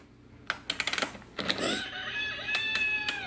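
Rooster crowing, a drawn-out rising and falling call that follows a run of quick tapping clicks, moderately close and fairly faint overall.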